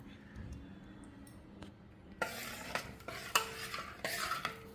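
A spoon stirs ground masala into a thick emperor fish curry in a metal pot, quiet at first, then loud, repeated strokes with clinks against the sides.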